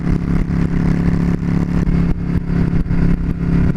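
Yamaha V Star cruiser motorcycle cruising at highway speed with no rear suspension: a loud, steady engine drone mixed with wind rush, close and continuous.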